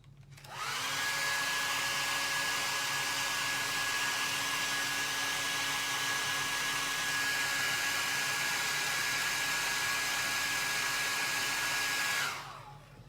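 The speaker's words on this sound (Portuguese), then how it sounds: "eu tenho sempre que secar antes com o secador" A hair dryer blows steadily for about twelve seconds onto painted plaster, a loud continuous whoosh with a high whine, switching on and off at the ends.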